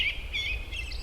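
American robin calling in short, high chirps, three or four separate notes spaced across a second over a low steady rumble, with no voices.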